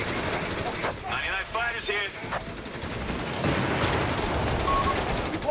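Machine gun fire in the World War II strategy game Company of Heroes 3, dense rattling bursts mixed with other battle noise and a voice talking over the fighting.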